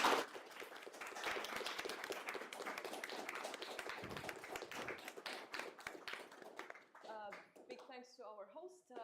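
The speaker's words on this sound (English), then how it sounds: "Please join me in applauding our excellent speakers." Audience applauding the speakers at the close of a panel discussion in Vienna: dense, continuous clapping from a room full of people for several seconds, fading out as a voice starts speaking near the end.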